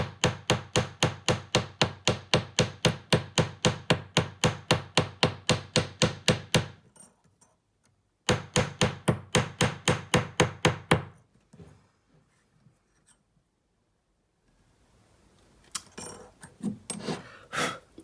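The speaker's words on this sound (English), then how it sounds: "Now I am hammering clear up to the edge and on the edge of the heart." Rapid, even hammer blows texture a metal heart-shaped earring, up to and along its edge, in two loud close bursts separated by a pause, followed by a few scattered taps.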